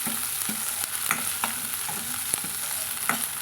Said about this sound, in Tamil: நம்ம இந்த காய்களையுமே இது கூடயே சேர்த்து நம்ம போட்டு வதக்கலாங்க